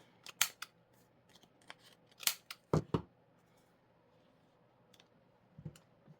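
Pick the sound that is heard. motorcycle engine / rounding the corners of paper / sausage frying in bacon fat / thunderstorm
rounding the corners of paper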